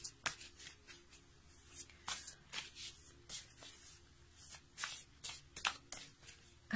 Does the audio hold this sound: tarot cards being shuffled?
yes